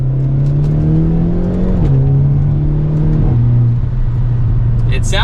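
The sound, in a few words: 2023 Hyundai Elantra N revving in N mode, exhaust pops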